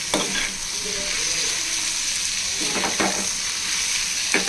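Two medium tomatoes frying in a pan with onion and ginger-garlic paste for a vada curry, a steady close sizzle with occasional stirring scrapes throughout.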